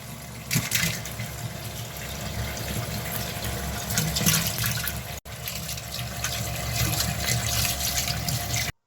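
Medium-sized fish pieces are washed under a steadily running tap, with continuous splashing water for several seconds, a brief break midway, then more flow before it stops.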